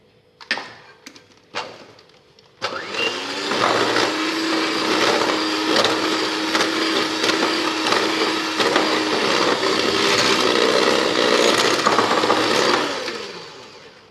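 An electric hand mixer whirs steadily as it beats vanilla cake batter for about ten seconds, preceded by a few sharp knocks and short bursts, then stops; loud, close and continuous, with no talking.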